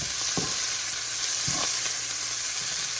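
Shrimp sizzle and fry steadily in a hot pan, with a few soft knocks and scrapes as they are tossed and stirred, and no voices.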